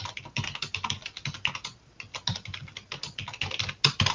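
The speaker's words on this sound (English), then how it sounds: "I hate that I'm typing all weird tonight" Rapid typing on a computer keyboard, a steady stream of close, crisp key clicks with uneven rhythm and short pauses, no voices.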